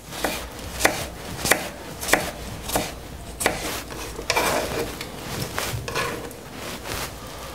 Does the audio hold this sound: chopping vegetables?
yes